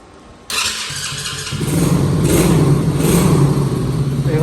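An ATV quad bike's engine cranks and catches after a brief quiet moment, then settles into a loud, rising idle that climbs in pitch and stays close and steady to the end.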